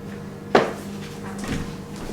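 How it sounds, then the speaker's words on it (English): An indoor door in an old Australian hotel opens and closes, giving one sharp knock or thud followed about a second later by a softer second bump, over a quiet room hum. "That's a door opening and closing down here."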